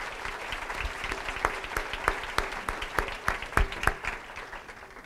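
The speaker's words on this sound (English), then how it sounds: "Round of applause for Shore, please." A school audience at a student academic competition gives a round of applause for a team, with steady scattered hand clapping and a few sharper close claps standing out, fairly loud and without talk.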